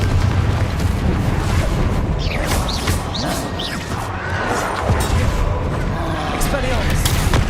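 A Confringo blasting curse erupts in Hogwarts Legacy amid a dense, loud battle din of booms, crashes and rumbling impacts, with spell whooshes and shouting voices layered over it throughout.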